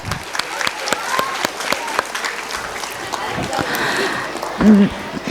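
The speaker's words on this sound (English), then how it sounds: "I think they deserve a big round of applause for that." Audience at a Grace Public School event claps loudly for a crew of student performers, dense continuous applause with sharp individual claps, fairly close, with a brief voice near the end.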